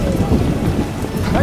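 Steady heavy rain with a low rolling rumble of thunder fills a stormy night scene in the video game The Witcher, constant and fairly loud throughout with no talk.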